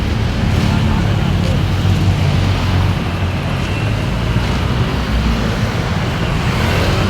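Continuous roadside traffic along a highway, a dense steady roar of passing cars with no breaks and no talk.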